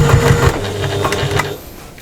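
A sewing machine runs a half-inch seam on a Digby overnight bag, with quick rhythmic needle thumps and motor whirring up close for about a second and a half before it slows and stops.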